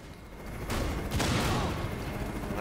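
Gunfire in the video game Rainbow Six Extraction on Xbox Series S: a dense, continuous rattle of shots that grows louder after a brief quieter start and keeps going without a pause.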